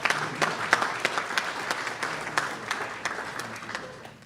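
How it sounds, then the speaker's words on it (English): An audience claps together in a steady, dense round of applause that stays fairly loud, with sharper individual claps standing out before it slowly thins toward the end. "So I want you to give yourselves a round of applause for that."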